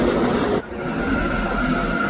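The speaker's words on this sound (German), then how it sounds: "Ah, jetzt fährt hier noch so ein nerviger Zug hier rum." A train passing near an abandoned farmhouse, a loud continuous rumble that drops slightly partway through and carries on steadily, with no talk.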